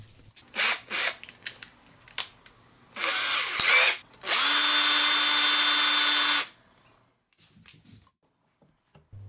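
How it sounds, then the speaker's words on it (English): A power drill on a low torque setting whirs in several short bursts, then one longer sustained run, driving screws up close while assembling a BDI OLA 8137 media stand, with quiet handling noises between. "I had to use my trusty drill."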